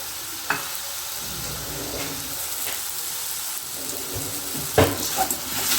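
Chopped ridge gourd, a medium-sized one cut into about a cupful, sizzles and crackles steadily in hot oil, with a few sharper stir and scrape clicks over the continuous frying hiss.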